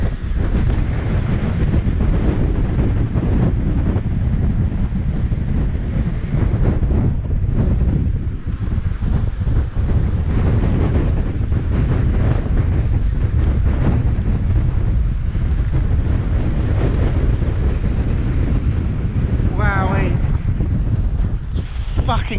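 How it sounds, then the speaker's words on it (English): Strong gusty wind buffets the microphone outdoors in a loud, unbroken rumbling roar that lasts throughout, with only brief quieter dips. "Wowee, that was breezy."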